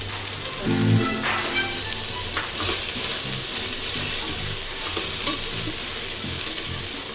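Sliced green chillies fry in a hot pan while being stirred for biryani, a steady close sizzle with scraping stir strokes and occasional clatter throughout.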